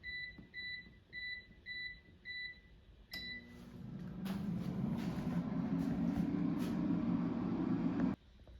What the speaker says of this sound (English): Now the air fryer is done cooking